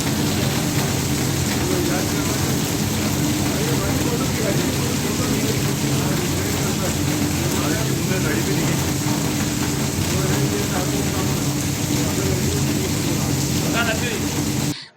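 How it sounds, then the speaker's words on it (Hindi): Steady, loud rain falls over Bhilwara on a Monday, a dense unbroken hiss with a low engine-like rumble beneath it for the whole stretch. "भिलवाड़ा में 2 दिन बाद सोमवार को फिर पानी बरसा।"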